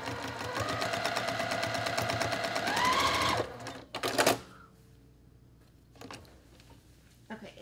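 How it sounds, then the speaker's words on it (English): A sewing machine stitches a quilt block in a fast, close, even rattle for about three seconds before stopping, followed by a few small clicks and handling sounds, with a voice heard faintly. "just start stitching over your previous stitches"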